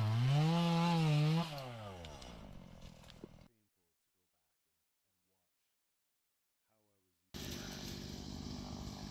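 A loud, revving chainsaw snarls while cutting down garden trees, drops into near silence for several seconds, then a dense buzzing roar returns to the end.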